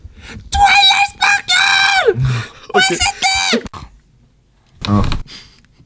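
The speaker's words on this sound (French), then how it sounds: "mais moi je hurle hein." A person screams loudly in several long, wailing bursts separated by short pauses, ending with a final shorter cry after a silent gap.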